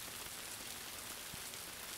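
Steady rain patters on a surface as a soft, even hiss of countless small drops. It is faint and continuous, with no voices.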